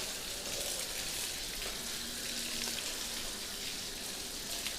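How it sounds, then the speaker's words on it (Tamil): Water splashing and trickling steadily as feet are washed up to the ankles and between the toes during wudu ablution, a constant close spattering wash without pauses. "இப்போ கரண்டைக்கால் வரையும் நல்லா காலை கழுவுங்க. விரலுடைய இடுக்குகள்லாம் தேய்ச்சி கழுவுங்க."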